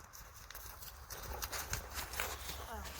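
Horse hooves clip-clopping on the ground during a riding-lesson warm-up, a loose irregular series of fairly close thuds, with a voice talking faintly underneath.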